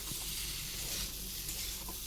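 Food fries in a hot pan with a steady, close sizzle and hiss, continuous and even throughout with no talking.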